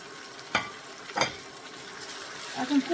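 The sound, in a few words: beef frying in plenty of oil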